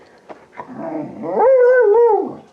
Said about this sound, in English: They can be a little vocal sometimes, and they do tend to howl.